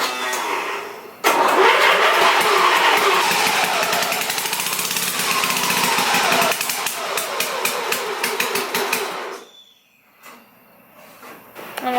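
Riding lawn mower engine starting and running close by, a steady mid-pitched drone with a rattling pulse for several seconds before it cuts away to quiet.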